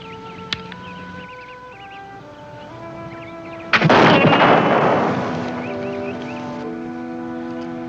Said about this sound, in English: That's fine shooting, Red Sky.